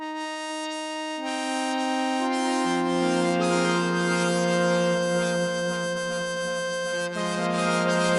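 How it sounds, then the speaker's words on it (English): An Akai synthesizer app for the SynthStation keyboard on iPad plays sustained, buzzy analog-style tones that shift pitch in steps, rich in harmonics, loud and continuous with no voices. "That's the sound of the app that Akai released to accompany this hardware"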